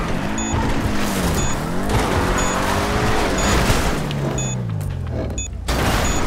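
A Camaro driven in GTA Online on PS5, its engine revving loudly and rising through gears with tire squeal and brief bumps, close and continuous, with no talk.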